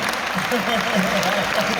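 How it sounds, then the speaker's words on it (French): A hall audience at a political gathering in Montpellier applauds a guest in the room, a brief, even wash of clapping with voices underneath. "On peut applaudir"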